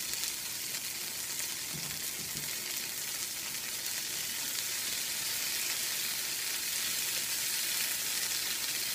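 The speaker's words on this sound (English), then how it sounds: "going to let them brown on each side" Gnocchi brown in a hot pan with a constant, close sizzle and crackle of frying, steady and unbroken throughout, with no talk.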